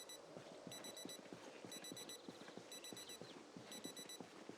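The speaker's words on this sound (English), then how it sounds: "There's another alarm somewhere." An electronic alarm clock in a Project Zomboid-style survival video game rings in repeated bursts of high beeping. It stays steady and fairly quiet, with clattering footsteps and soft game noise underneath.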